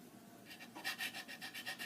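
Sandpaper rubs over the wooden body of a kit guitar in quick, rhythmic back-and-forth strokes, faint and close.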